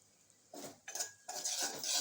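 A spoon mixes turmeric, coriander-cumin and red chilli powder into a tomato masala for dal fry tadka, making four or five short scraping and clinking strokes against the pan, close and faint, with no voices.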